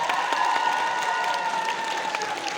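A concert audience in Truskavets, at a solo show, claps in a dense, steady burst of applause that fills the whole stretch at full strength, with no voices standing out.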